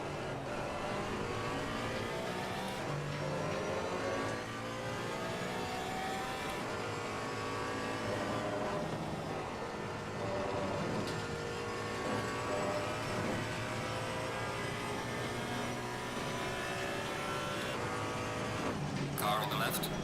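GT3 race cars in a sim racing game roar continuously at moderate level, engines rising and falling through gear changes as the pack runs together for the full stretch.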